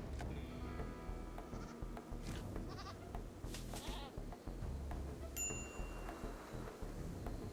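Sheep bleating in the video game RimWorld, set among tribal settlers in a tundra, with several bleats rising over a dense, steady bed of game ambience and a bright chime partway through.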